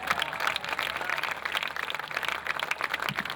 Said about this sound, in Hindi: तालियां बजाएं, मैं भी साथ दूंगा।